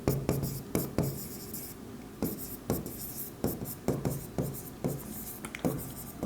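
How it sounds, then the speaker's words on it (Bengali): A pen writes an answer on paper in quick bursts of scratchy strokes, with brief pauses between groups. The strokes are close and fairly clear, with no talking. "আমি 1 নম্বর প্রশ্নের উত্তরটা লিখতেছি"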